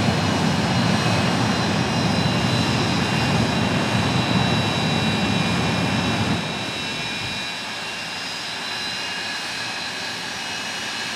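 A jet truck's engine roars loudly at a night speedway event as it melts a Dodge van, a sustained, dense jet blast that drops slightly in intensity after about six seconds but keeps droning steadily.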